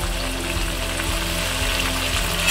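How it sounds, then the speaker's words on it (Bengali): Chicken frying with spices in a pan, a steady close sizzle and crackle with soft bubbling pops that holds at an even loudness throughout. "এইভাবে কষিয়ে কষিয়ে মশলার সঙ্গে কিন্তু চিকেনটাকে ফ্রাই করতে হবে"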